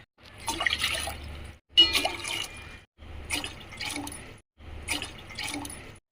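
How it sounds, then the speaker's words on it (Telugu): Water pours from a glass into a pot in four separate splashing pours, each lasting about a second, with brief pauses between them. "ఇందులో ఒక ఐదు గ్లాసుల నీళ్ళు పోసుకుందాం"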